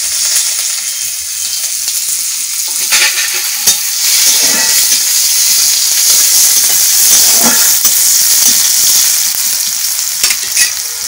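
Chopped onion hits hot mustard oil with dried red chilli and cumin in a village kitchen and sizzles loudly and continuously, with occasional scrapes as it is stirred close by.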